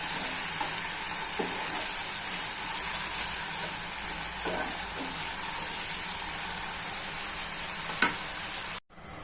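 Finely chopped potatoes cook in a hot pan with a loud, steady sizzle, broken by occasional spoon scrapes as they are stirred. The sound cuts off abruptly at the end.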